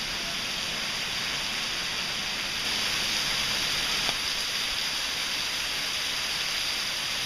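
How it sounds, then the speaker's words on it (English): Steady, even hiss of rain falling during Tropical Storm Irene, a continuous wash of drops at moderate distance with no voices. "it's just started to rain here"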